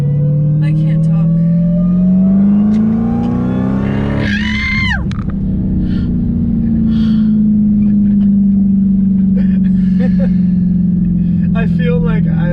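Supercharger whine from an 800-horsepower Dodge Hellcat: a loud, steady high-pitched whine over engine drone that rises in pitch, breaks off briefly, then returns and holds, with voices and laughter inside the car.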